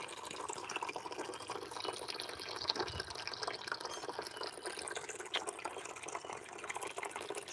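Water runs continuously while being fetched outdoors, a faint, steady trickling and splashing with drip-like detail throughout.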